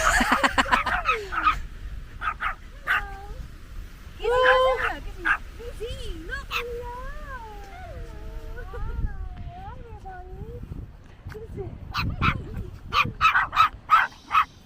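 Small dogs, a Pomeranian and a Poodle, bark and yip in sharp bursts with whimpering whines in between, close by, while people talk.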